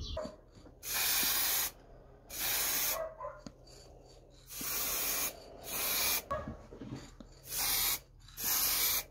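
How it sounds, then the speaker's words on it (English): A spray can of lacquer hisses in repeated bursts of about a second each onto a wooden coat rack, loud and close, with short quiet pauses and faint handling clicks between passes. "I'm going to put a coat of spray lacquer onto the coat rack."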